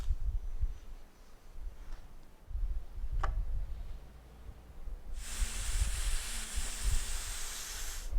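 Steam hissing from a steamer while prying up the spline of a pressed cane seat: a loud, steady hiss starts partway through, after low handling noises and a single sharp tick.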